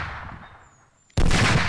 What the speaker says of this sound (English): we'll go ahead and put a bullet in his head